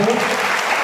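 A meeting audience applauds, a short dense burst of clapping that fills the whole moment at close range.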